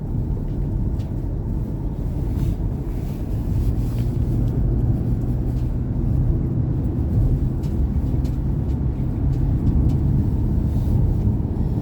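Car driving along wet rural roads in France, heard from inside as a loud, steady low rumble of engine and road noise with a faint hiss of tyres on wet tarmac.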